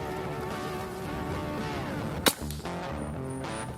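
A single sharp, snappy air rifle shot firing a 12-grain pellet cracks out once over a constant buzzing drone, followed by a brief faint rattle.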